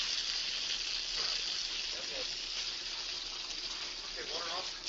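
A water hose sprays steadily onto a boat engine, washing away fire suppressant material: a continuous close hiss and gush throughout, with a voice faintly underneath.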